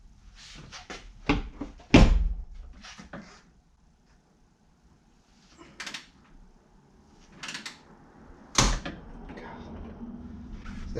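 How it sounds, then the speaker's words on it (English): Heavy door being hung on a Jeep JK, with scattered metallic clunks, knocks and sharp impacts separated by quiet pauses, close by. "then you just got to hang that heavy door"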